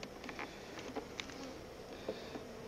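Honeybees at a hive in a weak colony, their buzzing faint and steady, with a few brief closer passes rising out of the low hum.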